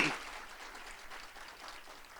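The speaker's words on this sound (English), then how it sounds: "let's give him a round of applause" A faculty and staff assembly audience keeps up a short, fairly even round of applause at moderate distance.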